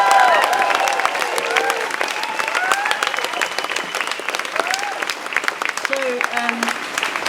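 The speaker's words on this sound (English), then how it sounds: "Big round of applause for Mr. Packham for getting so many people here." Loud crowd applause and cheering at a nature restoration event, dense continuous clapping with whoops and voices rising over it, close and sustained the whole time.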